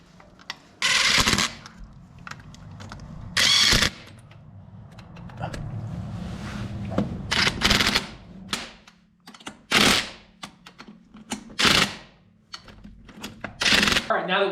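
Bolts being run in on the locking hub of a Jeep CJ5, with bursts of rapid ratcheting or impact-tool rattle recurring in short loud stretches and quiet tool clinks and handling noise between them.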